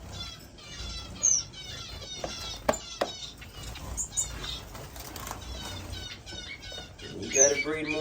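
Owl finches in a bird room chirp in rapid repeated twittering calls, with occasional wing flutters and a person speaking nearby.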